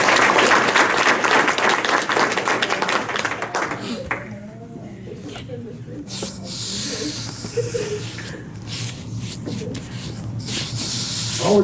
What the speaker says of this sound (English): let's give Yotzi and Michelle a round of applause